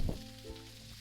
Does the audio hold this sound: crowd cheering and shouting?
no